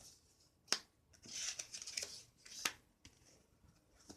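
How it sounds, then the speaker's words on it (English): A deck of tarot cards is cut and handled in a quiet room, giving a few sharp papery snaps and soft shuffling rustles spread over a few seconds. "time to cut the deck"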